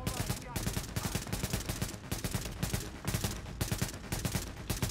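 Rapid bursts of gunfire crack in quick succession, a steady automatic rhythm of repeated shots with faint game-like background noise, from the video game The Division beta.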